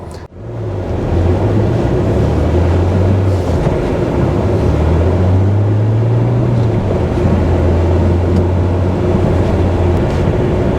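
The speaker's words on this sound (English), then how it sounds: "there's just something so right about it. I think it's that sort of subtle bellow of the VR6 engine just begging you to open it up a bit." Audi TT 3.2 VR6 engine running steadily with a low, continuous drone that shifts slightly in pitch, close and loud with no talk over it.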